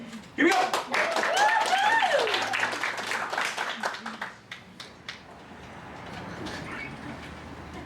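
An improv show audience breaks into a loud burst of clapping and cheering that fades after a few seconds into scattered claps and room noise, with a performer speaking briefly at the start.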